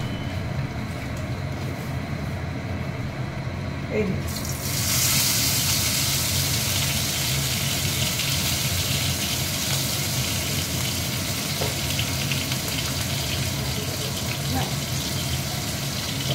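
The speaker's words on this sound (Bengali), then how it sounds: "তেল গরম হয়ে গেছে, এইবারে মাছগুলো আমি ভাজবো।" Steady hiss and crackle of giant freshwater prawns dusted with chili powder frying in hot oil, a continuous sizzle that swells a little partway through and holds at an even loudness.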